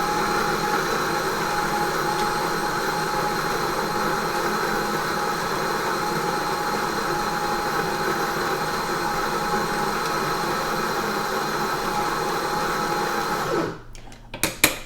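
A Mahlkonig X54 or Eureka Mignon Specialita espresso grinder grinding a fine shot, a steady, fairly quiet motor whir holding evenly for about thirteen seconds before cutting off abruptly, followed by a few faint clicks.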